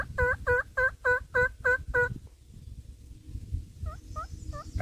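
Wild turkey gobbling during a spring hunt, answering a hunter's calls: a loud run of seven rapid gobble pulses, then after a pause a fainter, more distant series of three or four gobbles over a low rumbling background.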